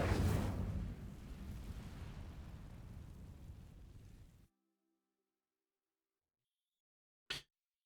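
The Incendio fire spell igniting dry vines in Hogwarts Legacy: a loud whooshing, crackling burst that slowly fades over several seconds, then silence and a short sharp pop.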